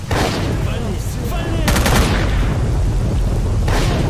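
Gunfire in S.T.A.L.K.E.R. Call of Pripyat, with loud, rolling shots and booming reports throughout, including a sharp cluster of bursts partway through and another near the end.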